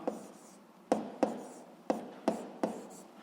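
A pen writes on paper during a Ukrainian seventh-grade physics lesson, giving sharp scratchy strokes at an uneven rhythm, each stroke followed by softer scribbling, close and clear with no talk.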